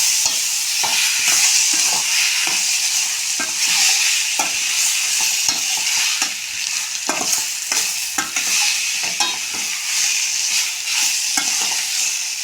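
Brinjal fry sizzles in oil in a pan on a gas stove while a spatula stirs and scrapes it in repeated, uneven strokes, loud and close, with no voices.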